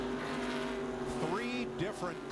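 NASCAR race cars at Daytona roll off pit road onto the track, steady engine drone with rising and falling pitch sweeps as cars pass close by, under continuous commentary talk.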